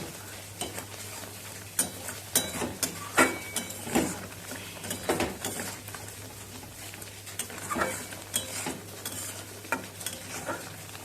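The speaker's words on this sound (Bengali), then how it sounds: "এবার নাড়বেন, তা নাহলে তলাটা ধরে যাবে।" Coriander chutney with date palm jaggery stirred in a pan over medium heat, a close, steady scraping and soft patter with a quiet sizzle, strokes repeating irregularly throughout with no talk.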